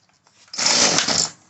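A Homelite 3514C chainsaw on full choke after priming, heard near and loud as it catches and fires, a rough raspy two-stroke burst of roughly a second following a few faint pulls.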